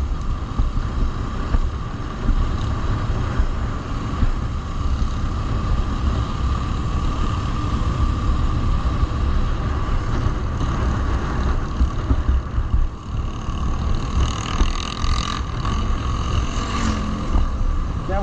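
A motorcycle rides along the Kathmandu to Pokhara highway, with a steady engine rumble mixed into continuous wind buffeting the microphone throughout.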